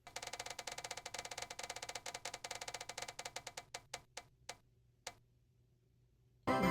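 A spinning reading-list prize wheel ticks in rapid, even clicks that gradually slow, spread apart and stop after a few final isolated ticks, followed by a brief burst of other noise at the end.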